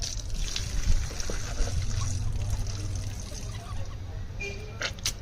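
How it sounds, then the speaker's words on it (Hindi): Water poured over the right hand and wrist during wudu ablution trickles and splashes steadily at close range, with soft handling noises and brief clicks near the end. "पहले दाहिने हाथ पे पानी डालें। गट्टो समीत 3 बार धो लें"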